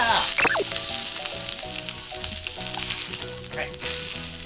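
A large block of pork belly sears in a hot pan, loud continuous sizzling and crackling fat with a few sharp pops, alone without talk.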